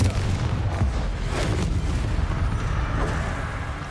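The Confringo fire spell in Hogwarts Legacy erupts as a loud, sustained, rumbling blast with booming low energy and crackling bursts, continuous for several seconds and close up, with no voices.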